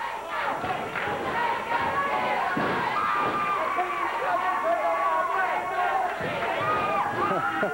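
Crowd at a 1989 Memphis championship wrestling match yells and chants, a loud sustained roar with occasional thuds from the ring, while an announcer talks over it.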